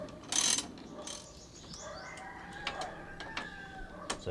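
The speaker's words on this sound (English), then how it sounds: "taking out bolts" Ratchet clicks while removing bolts from the muffler of a 1988 Honda VTZ250 MC15E motorcycle, a few short, sharp clicking bursts spread across the clip, fairly close and moderately loud with no talking.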